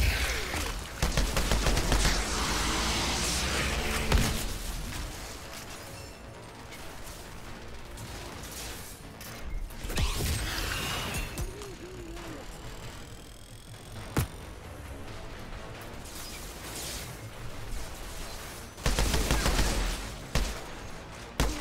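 Gunfire in the video game Outriders, with repeated bursts and single shots mixed with mechanical clicks and game effects, loud and busy with several louder volleys near the start and end.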